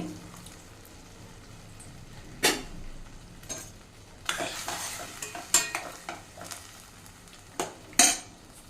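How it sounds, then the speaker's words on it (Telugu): Water poured into a sizzling pan of okra curry with tamarind, a low frying hiss broken by sharp stirring scrapes and clanks of a spoon against the pan, near and without voices. "ఇప్పుడు మళ్ళీ ఇక్కడ వాటర్ వేస్తానండి."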